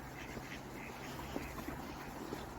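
Soft, scattered duck quacks, a few short calls spread over a constant outdoor hum, fairly distant and faint.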